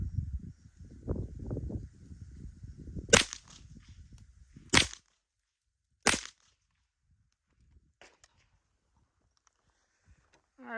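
Three gunshots from a MAC5 handgun fired at a target, sharp loud cracks spaced about one and a half seconds apart, preceded by rustling handling noise and followed by near silence with faint clinks.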